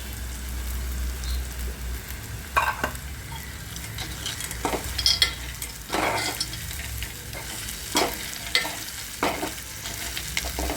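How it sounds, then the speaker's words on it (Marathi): A handful of toor dal and sandge dropped into hot, crackling oil, a steady sizzle broken by repeated sharp pops and spattering crackles, close and fairly loud, with stirring scrapes. "तेल फुटायला लागलं की मग आपण याच्यामध्ये जे आपण ही तुरीची डाळ एक मूठ घेतलेली आहे ती त्यामध्ये टाकणार आहोत"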